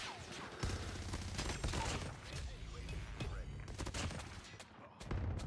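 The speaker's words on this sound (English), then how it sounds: "Will you stop shooting?" Rapid gunfire bursts crackle close up in Call of Duty Mobile, loud repeated volleys with short gaps and mechanical clatter, under a player's voice.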